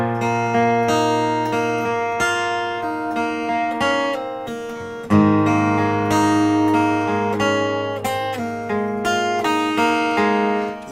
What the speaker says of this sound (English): So the two chords together sound like this.